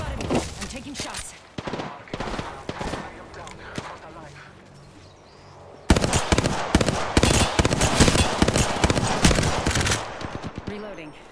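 Rapid gunfire bursts from the video game Apex Legends, a dense clatter of shots that grows louder and more continuous in the second half, with game noise throughout.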